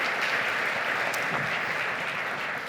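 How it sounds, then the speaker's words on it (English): Steady audience applause for a bank representative at a Wichita recruiting event, dense and continuous clapping from a crowd filling the room, with no voices standing out. "can we just give another round of applause to Melissa"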